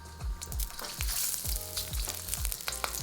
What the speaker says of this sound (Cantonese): We'll stir fry them until fragrant or about 40 to 50 seconds.